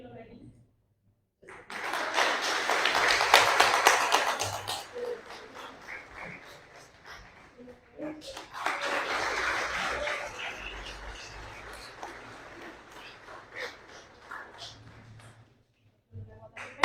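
An audience at an INAH festival event applauds researchers, two swells of clapping rising and fading over a room, with people talking over and between them.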